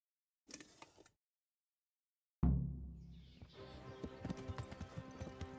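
Horse in Kingdom Come: Deliverance, close up: a brief burst of hooves, a pause, then a sharp loud snort or whinny followed by steady clip-clopping hooves continuing at a walking pace.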